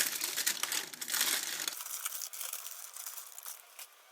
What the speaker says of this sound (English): Just peel our paper back and lower them onto our serving platter.